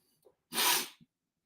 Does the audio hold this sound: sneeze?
yes